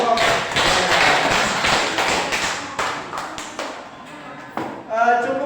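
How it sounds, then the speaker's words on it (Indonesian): Children in a classroom clapping for a group: a burst of dense, close hand claps and taps that tapers off, with a voice near the end. "Tepuk tangan buat kelompok."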